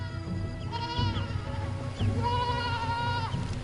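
A young goat left behind its herd on open pasture bleats loudly twice, each wavering cry lasting about a second, with no voices over it.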